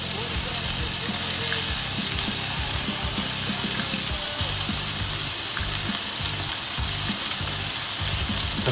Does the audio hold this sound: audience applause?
no